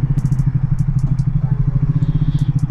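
A Triumph Speed 400 motorcycle, just back from its first service, fires up and settles into a steady, loud, close-up idle with a fast regular thumping pulse and faint mechanical ticks over the top.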